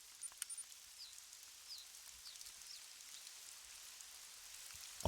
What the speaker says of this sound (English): I'm liking this rain.